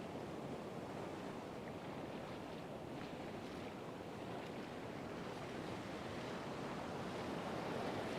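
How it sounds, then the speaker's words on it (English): Surf from waves washing far up a flat sandy beach, a continuous broad rushing wash with some wind noise, steady and fairly close throughout, with no speech. "every time a wave comes in, the sand is so flat here that it just washes so far up."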